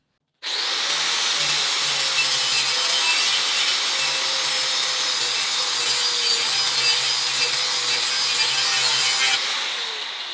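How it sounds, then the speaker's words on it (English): A 36 grit disc grinds an aluminum weld flush on structural aluminum, a loud, continuous abrasive whine with a steady motor hum, starting abruptly and running unbroken for about nine seconds with no talking. "So now you can see that was the 36 grit that I used on sanding that weld down."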